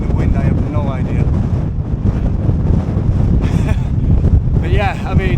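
Strong wind buffets the microphone on a boggy moorland walk under low cloud, a steady loud rumble throughout, with a person talking over it and brief whistling gusts.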